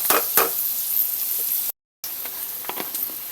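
Pork sizzles and fries steadily in a pan, a close, constant crackling hiss with a few sharper pops and a brief cut to silence in the middle.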